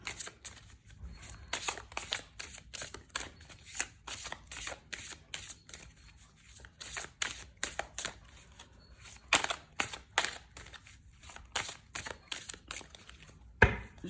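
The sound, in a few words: shuffling tarot cards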